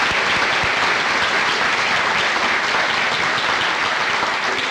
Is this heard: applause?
yes